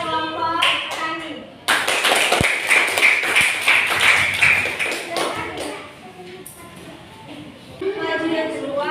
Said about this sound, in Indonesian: coba kita kasih tepuk tangan buat kelompok petani